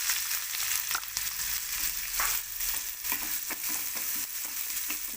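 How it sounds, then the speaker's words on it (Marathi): Finely chopped onion sautés in hot oil while a vegetable dish cooks, giving a steady, close sizzle with a few scraping stir clicks scattered through it. "गुलाबी रंगावर परतून घ्यायचा आहे कांदा"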